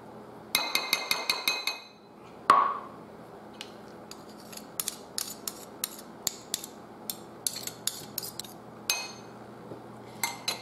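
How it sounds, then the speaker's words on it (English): A metal household teaspoon clinks against containers while cooking ingredients are measured out, with a rapid run of small bright taps, a sharper knock, then scattered light clinks spread through the rest. "So this is a regular household teaspoon you use for your coffee"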